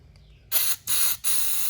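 Aerosol cleaner sprayed onto the MAF sensor of a Lexus IS F in three close, loud hissing bursts, a short one followed by two longer ones separated by brief pauses, with no talking.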